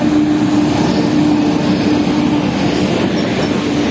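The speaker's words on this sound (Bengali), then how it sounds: "এই হচ্ছে আমাদের অমৃত ভারত এক্সপ্রেস ট্রেন" The Amrit Bharat Express, a new Indian passenger train on its inaugural New Jalpaiguri to Nagercoil run, rolls along with a loud continuous rumble, clattering wheels and a faint steady squeal.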